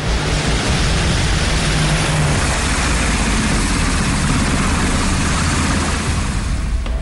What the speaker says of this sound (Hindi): 2 इंजन वाले ये विमान ऑपरेशन के दौरान निमित्स पर सवार लड़ाकू विमानों के बेड़े को आगे का रास्ता दिखाते हैं